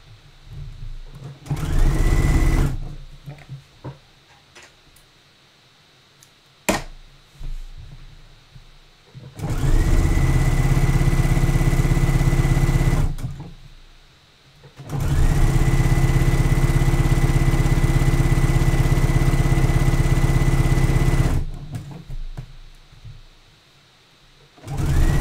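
Sewing machine stitching a swimsuit side seam, several loud sustained runs of humming motor and needle chatter with brief pauses between, close up.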